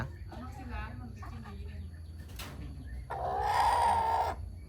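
Chickens foraging around a village yard, with faint clucks mixed among soft background sounds before a louder, bright burst of sound near the end.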